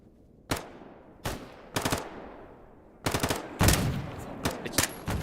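Gunfire in a video game: short bursts of rapid automatic shots separated by pauses, loud and close, with the later bursts coming closer together.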